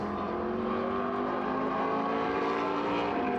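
A historic sports racing coupe at the Imola circuit drives past with a loud, sustained engine note whose harmonics rise and fall smoothly as it passes, with no talk over it.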